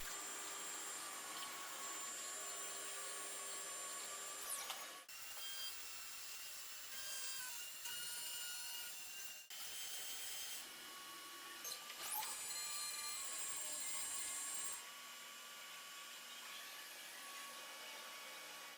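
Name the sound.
Okuma MULTUS B550 multi-function CNC turning center machining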